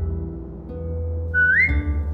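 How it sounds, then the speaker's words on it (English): Someone whistles to a dog in The Walking Dead: The Final Season video game: a single short whistle that glides upward, heard briefly over a low, steady game ambience. "Now whistle and tell her to lie down."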